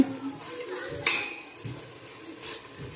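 Chicken tinola stirred in a pot gives soft, close scraping and a sharp metallic clink of a utensil against the pot, with faint sizzling and a few brief murmurs of speech in a quiet kitchen.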